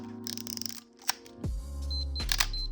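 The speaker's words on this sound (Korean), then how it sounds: "이 삐삐 소리는 지금 어둡기 때문에 흔들림에 주의하라는 소리거든요." A Minolta X-700 film camera in automatic P mode makes soft mechanical clicks and a sharp shutter release, followed by a series of short high warning beeps for low light.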